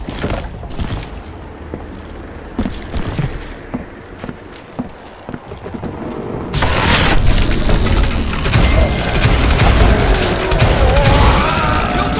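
Dynamite blasts in the Western shooter game Call of Juarez: Gunslinger, a few heavy booms and thuds followed by a loud, sustained rumbling roar of debris and gunfire-like noise, with no talking.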